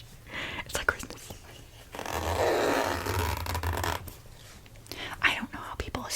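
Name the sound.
zipper being opened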